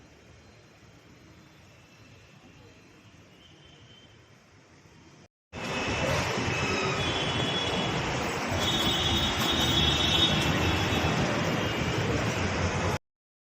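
A Kolkata Metro train runs with a loud, steady rumble and rail roar that jumps up partway through after quieter carriage noise, no voices heard.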